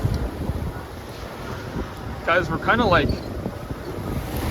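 Wind buffets a sailboat at sea, blowing steadily against the microphone while waves wash around the hull, and someone talks over it briefly.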